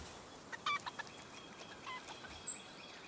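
Chickens in the video game Palworld give a few faint, scattered clucks over a steady low background hum, short isolated calls spaced through the moment.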